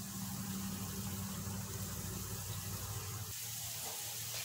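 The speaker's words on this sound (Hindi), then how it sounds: "अब ये फ्राई हो रहे हैं" Potato balls coated with red chili fry in hot oil, giving a steady, dense sizzle and bubbling hiss throughout, close and even with no talking.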